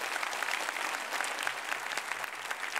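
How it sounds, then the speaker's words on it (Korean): A church congregation at a Friday service claps steadily for young people back from camp, a continuous, even wash of applause at moderate volume with no break. "우리 한 큰 박수로 한번 위로하겠습니다"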